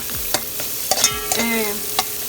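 Onions and garlic fry in a pan with a soft continuous sizzle, punctuated by several sharp utensil clicks and scrapes as the pieces are stirred.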